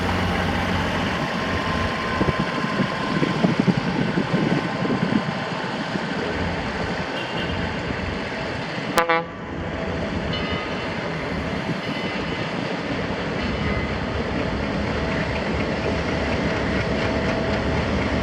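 Two double-headed Alco diesel locomotives pulling a train at Steamtown, a loud, continuous rumbling engine drone with rolling rail noise and a brief sharp clank partway through.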